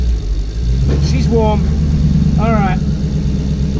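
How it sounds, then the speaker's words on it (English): A Porsche 986 Boxster fitted with a swapped-in V8 engine runs steadily close by, a low rumbling idle under brief speech. "It is actually a running car, which is amazing."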